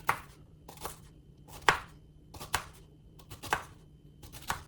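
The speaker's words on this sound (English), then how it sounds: "Now I got the ginger here, so I'm gonna start chopping this up." A knife chops ginger on a cutting board in a loose rhythm, about a dozen crisp close knocks with short pauses between.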